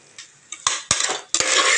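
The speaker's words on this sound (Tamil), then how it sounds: "அடி பிடிச்சிடாமல் கிளறிக்கோங்க." A spoon scrapes and stirs biryani masala cooked with ghee and oil in a pot for bottle gourd biryani, in three or four quick scraping bursts with short pauses and a faint sizzle under them.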